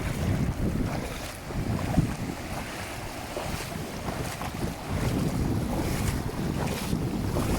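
Wind and sea waves buffet a fishing boat setting a net offshore during the monsoon season, a steady close rush of surf and wind noise across the microphone with no talk.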